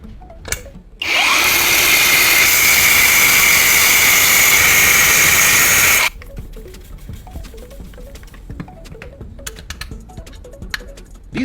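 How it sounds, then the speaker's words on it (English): A power tool cuts a metal nut in half while the nut is held with adhesive, giving one loud, continuous high whining grind of about five seconds, with light handling noise before and after. "I temporarily fix in place with adhesive for easier machining, then cut in half."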